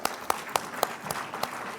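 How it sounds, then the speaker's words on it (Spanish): Sparse applause at an afternoon panel at an asphalt and road development conference, heard as a handful of distinct claps at a slow, steady pace over soft room noise. "Un aplauso, por favor, para Joselito."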